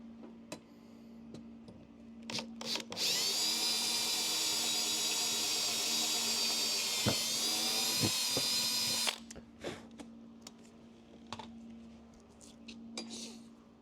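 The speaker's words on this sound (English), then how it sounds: "So I'm gonna make my way all the way around pre-drilling and setting these screws." A cordless power drill pre-drills and drives screws while installing a Vanspeed capsule on a van, one long steady whine of about six seconds framed by scattered clicks, taps and handling knocks.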